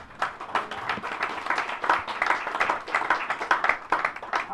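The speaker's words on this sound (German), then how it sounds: "Applaus" Crowd applause at an outdoor street gathering, a dense steady patter of many hands clapping throughout, moderately loud with no gaps.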